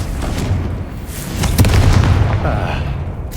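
A Confringo fire spell bursts in Hogwarts Legacy, landing as a single heavy boom partway through over a steady rumble of game sound.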